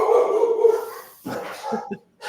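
Dogs bark outside: a long, loud, throaty bark is followed by several shorter yips and whimpers with brief gaps between them.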